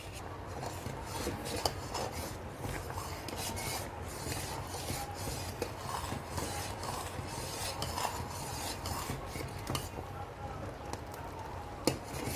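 Sugar being stirred in a pan on the stove until it dissolves for a bread rabri apricot dessert, giving a steady, continuous gritty scraping and rubbing throughout at moderate loudness.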